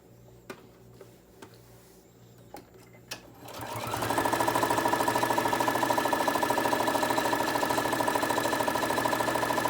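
Sewing machine stitching around the edge of a fabric crayon roll: a few clicks and taps, then the motor starts, running in a fast, steady, rhythmic mechanical chatter close by.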